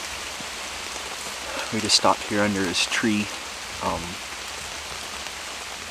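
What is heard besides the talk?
rain falling in a Washington forest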